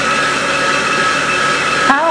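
A backpack leaf blower runs outdoors, clearing sweet gum balls from a yard, its loud steady engine roar filling the whole clip close by, with a brief voice and small clatter near the end.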